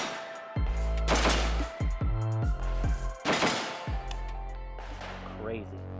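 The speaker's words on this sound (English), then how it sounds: "Even with Rachel shooting this gun, it almost has no recoil" Loud, close gunshots from an AK-Niner 5.56 rifle fired by a woman, several sharp cracks in irregular bursts with ringing tails between them, and voices in the background.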